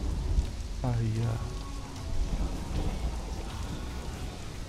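A thunderstorm with rain plays in the survival game Conan Exiles, a steady patter of rain on surfaces with a low thunder rumble, moderately loud, with someone briefly speaking over it.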